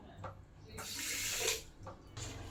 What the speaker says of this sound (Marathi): ह्याच कपाने आता पाणी टाकायचं 8 कप.